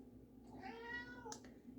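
A pet cat gives a single drawn-out meow, close and fairly soft, rising and then falling over about a second, with a brief sharper chirp near the end against a quiet indoor background.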